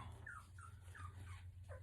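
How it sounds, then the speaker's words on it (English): A newly woken puppy gives faint, high whimpers, about five short whines in quick succession, heard from a distance over a steady low hum. "Oh no, the puppy has woke up."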